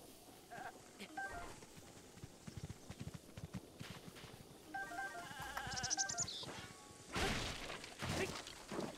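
In Zelda: Breath of the Wild, a goat bleats a few times amid clattering hoofbeats and scattered game effects, quiet and somewhat distant, with a voice briefly speaking over it.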